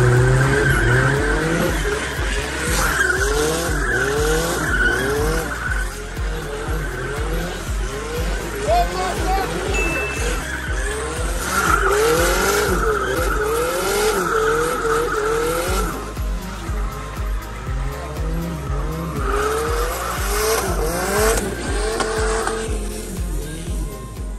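A drift car, pushed hard and thrown sideways with the handbrake, revs loudly as its tires squeal and skid in long repeated bursts close by, with people talking over the engine noise throughout.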